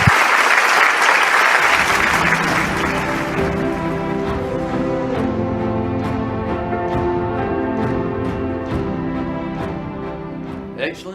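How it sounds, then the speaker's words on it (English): A large rally audience breaks into sustained applause to welcome David Beasley, a dense, loud clatter of many hands that holds steady for about eleven seconds before thinning slightly toward the end. "Let us welcome Mr. David Beasley with a warm round of applause."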